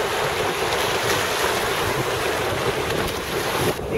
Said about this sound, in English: And the ocean is roaring like crazy.